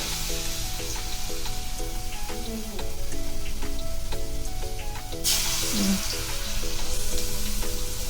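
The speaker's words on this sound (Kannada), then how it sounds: "ಅದನ್ನು ನಾನು ಡೀಪ್ ಫ್ರೈ ಮಾಡ್ತಾ ಇದ್ದೇನೆ, ಯಾಕಂದರೆ ಚೆನ್ನಾಗಿ ಒಳಗಡೆ ಎಣ್ಣೆ ಹೋಗಿ ಬೆಂದು ಬರಬೇಕಂತೇಳಿ" Kadale vada, chickpea fritters, deep frying in hot oil, a steady close crackling sizzle that continues throughout, with faint background music and a brief louder swell partway.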